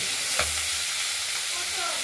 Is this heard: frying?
yes